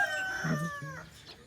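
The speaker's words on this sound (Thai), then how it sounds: "แม่ไก่พาลูกไก่มากินกัน" A hen with her chicks on a farm gives a few close, fairly loud clucking calls, the tones rising and falling, with two short bursts of lower clucks in between.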